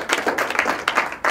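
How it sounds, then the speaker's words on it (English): A small audience claps in a university entrepreneurs' club meeting to welcome a speaker, brief bursts of scattered hand claps, fairly close and sparse, with no voices over them. "let's all give a round of applause for Brian"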